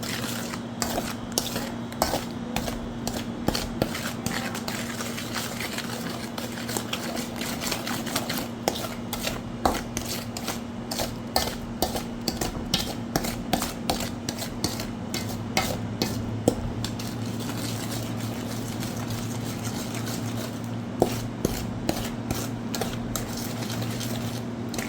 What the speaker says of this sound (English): Now I'm adding the eggs and I am going to mix this until it's nice and fluffy.